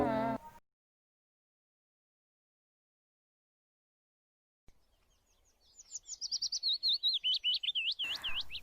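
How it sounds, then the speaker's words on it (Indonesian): A bird sings a quick series of high, warbling chirps after a brief silence, clear and fairly close, rising in loudness toward the end. "terdengar nyanyian burung nan merdu"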